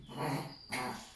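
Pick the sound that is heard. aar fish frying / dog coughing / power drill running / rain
dog coughing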